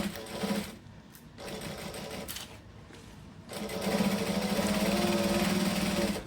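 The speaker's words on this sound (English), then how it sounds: "I'm just going to go back about an inch and stitch over those same spots again" A sewing machine stitches and backstitches a seam on a camera bag, running in several close bursts of steady whirring separated by brief pauses, ending in a longer, louder run.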